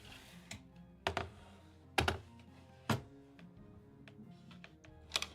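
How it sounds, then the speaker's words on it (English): A computer keyboard gets shuffled across a desk, giving several loud knocks and thunks among softer clicks and scrapes, close by and irregular. "I need to shimmy over my keyboard over here"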